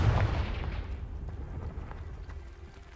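A Confringo blasting spell going off in Hogwarts Legacy, a loud booming explosion at the start that rolls into a long, gradually fading rumble.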